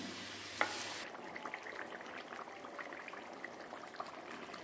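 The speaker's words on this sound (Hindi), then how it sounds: "चिकन की हमने 4 से 5 मिनट के लिए बुनाई कर ली है।" Chicken fries with green chillies and tomatoes in a handi. After a brief stir or clatter near the start, a soft, close sizzle continues with light scraping.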